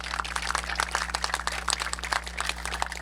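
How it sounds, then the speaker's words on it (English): An outdoor crowd at the East Brunswick Ice Arena groundbreaking ceremony claps steadily, a dense patter of many hands at moderate distance over a low steady hum. "So please give them a round of applause"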